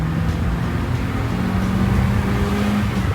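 A car running on 100% ethanol after a fuel pressure regulator was fitted accelerates, its engine note rising and droning steadily for a few seconds, moderately loud, with no talk.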